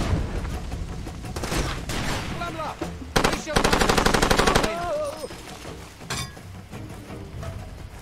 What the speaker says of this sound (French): il y a l'autre qui tire au mortier